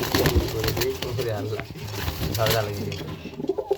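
A male pigeon of the ghiya chandan fancy breed coos in low repeated calls, close by, while someone talks over it throughout.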